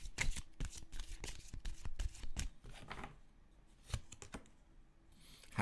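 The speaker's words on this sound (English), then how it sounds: "Let's just get some oracle cards for you." Oracle cards being shuffled by hand, a run of quick crisp riffling flutters and taps, close and dense at first, then sparser with a few isolated slaps, no voices.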